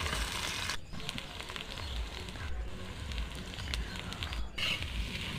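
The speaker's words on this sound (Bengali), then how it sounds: "আদা বাটা, রসুন বাটা আর জিরে বাটা দিয়ে লঙ্কার গুঁড়ো হলুদ দিয়ে খুব ভালোভাবে ভেজে নিব" Ginger, garlic and cumin paste frying in hot oil with chilli powder and turmeric, giving a soft continuous sizzle and crackle at low level throughout.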